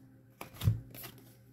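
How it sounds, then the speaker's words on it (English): Tarot cards being shuffled by hand: a couple of short, soft riffling bursts, close and fairly quiet, with no talking. "Let me just shuffle these up."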